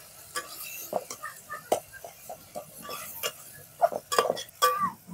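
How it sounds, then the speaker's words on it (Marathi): Finely chopped onion and tomato frying in a pan while being stirred, with soft sizzling under a series of irregular scraping and tapping strokes of a spoon against the pan. "आता टाकू आपण याच्यात टोमॅटो कापलेले जे होते ना बारीक बारीक, ते टाकून घेऊ आणि परतून घेऊ मस्त."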